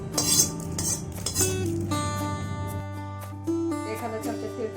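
A metal spoon scrapes and clinks against a pan while removing roasted byadgi chillies, producing several close, bright clinks and scraping strokes over a steady low hum.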